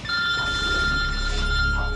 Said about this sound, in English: This is yours? Yeah. You're ringing.